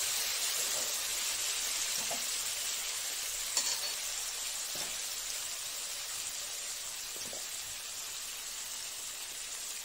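A ground paste of poppy seeds and sesame with four green chillies sizzles in hot oil for an eggplant dish, a steady, even hiss of frying with a few faint stirring clicks and no talking.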